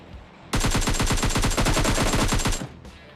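A rapid burst of automatic gunfire from a shooter video game lasts about two seconds, loud and close, with evenly spaced shots in quick succession before it cuts off.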